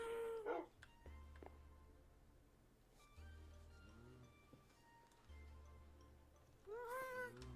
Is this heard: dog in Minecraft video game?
yes